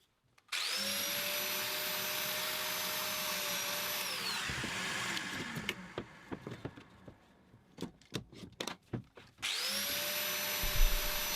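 A domino joiner cuts mortises into the ends of wooden face-frame parts, a loud steady motor whine that winds down into sparse knocks and clatter before the whining cut starts again.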